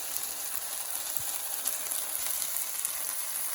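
A beef burger patty sizzles in a cast iron pan, giving a steady, close frying hiss that stays even and unbroken from start to finish, with no voices.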